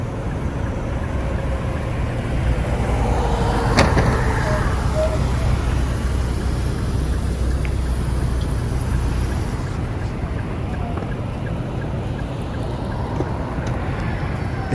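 Quiet street traffic near Central Park in New York City, a steady soft rumble of passing vehicles with light wind noise and no horns, heard at a distance while a person talks over it.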